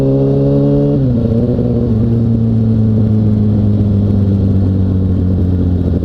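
A motorcycle engine at steady light throttle drones at an even pitch after a brief drop near the start, loud and continuous with no voices.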